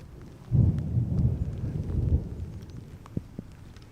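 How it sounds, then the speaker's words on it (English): A deep rumble of thunder rolls in and fades over a couple of seconds in the Scottish Highlands, followed by a few faint ticks. "We're about to hear a very loud crash of thunder."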